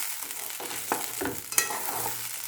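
Spice paste is stir-fried over low heat for a bata fish curry, a steady close sizzle broken by several scraping stirs of the spoon through the pan.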